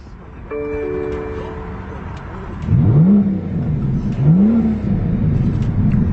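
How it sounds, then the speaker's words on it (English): A BMW M760 V12 engine cranks and fires up, then settles into a deep idle with a couple of rising revs, close by, over a steady tonal hum. "Go ahead and power on that V12."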